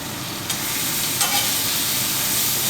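Very thin steak sizzling on a hot griddle plate, a loud, steady frying hiss with small crackles, close up and alone without talk.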